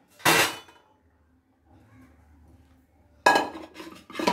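Two loud metallic scraping clatters of a utensil against a plate as cooked cashew dough for kaju katli is moved over, separated by a quiet pause with faint low rumble.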